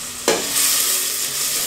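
Onions drop into a hot steel pot for a village-style raw mango sabzi and start frying with a sudden loud sizzle that then settles into a steady hiss. Stirring is heard and nobody speaks.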